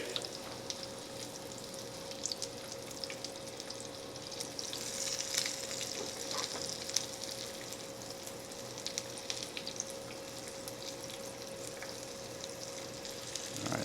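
Chicken milanese cutlets fry in oil in a pan, giving a soft, continuous sizzle with scattered light crackles, close but fairly quiet, with nobody talking.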